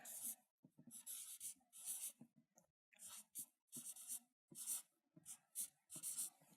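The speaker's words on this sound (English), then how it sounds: "Now, I'm going to just write projects here." Marker or chalk writing on a board during a business talk, a run of short scratchy strokes in bursts with brief pauses, close and fairly quiet, no talking.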